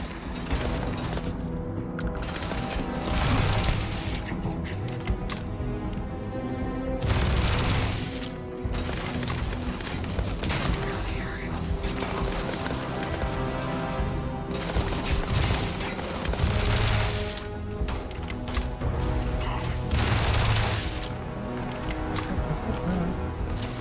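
Automatic weapon fire in the space game Starfield, sustained bursts of rapid shots running through the whole stretch with brief lulls, loud and dense over a continuous game soundtrack.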